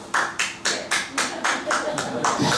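Church congregation claps along in a steady rhythm, about nine broad percussive bursts spaced roughly evenly, full and fairly loud with a faint room murmur beneath.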